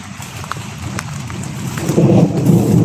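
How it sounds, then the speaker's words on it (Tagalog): Heavy rain pouring down with a dense, rushing hiss that swells louder toward the end, with a low rumble underneath. "sobrang lakas ng ulan kanina"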